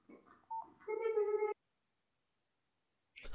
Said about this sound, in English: Just a minute again, my phone's ringing.